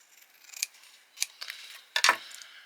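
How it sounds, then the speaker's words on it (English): Scissors cutting around the white border of a paper ephemera card, a few short, sharp snips close up, spaced unevenly, with a brief rustle of paper between cuts. "I'm literally just going to cut around this white area"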